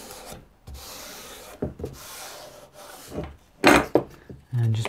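A binding strip is burnished down along the truss rod of a guitar neck, producing close, scratchy wooden rubbing strokes in uneven bursts, with a few sharper scrapes and a thump at the end.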